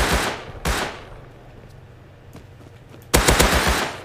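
Gunfire in the survival video game Rust: two loud bursts open the clip, a few faint distant shots follow, then a louder rapid volley of close shots near the end.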